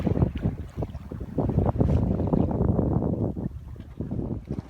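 Sailboat under way through fog near Anacapa Island, with a steady rush of wind buffeting the microphone and water sloshing against the hull, continuous and close throughout.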